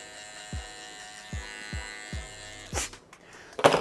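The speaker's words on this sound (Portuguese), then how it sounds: "E aqui agora eu vou passando a minha maquininha só tirando essas marcações" An electric hair clipper works on a V-shaped fade haircut: a steady motor hum with a series of soft, evenly spaced knocks, then a short louder burst of scraping near the end.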